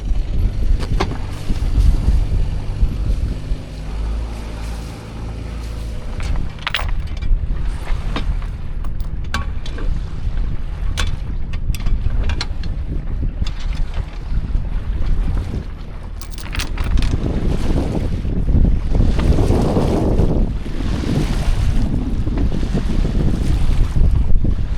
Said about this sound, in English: It does look like we have a little bit of wind.